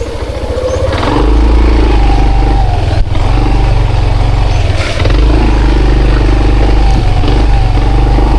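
A motorcycle engine rumbles very loud and close, rising after the first second into a steady heavy drone with brief dips around three and five seconds.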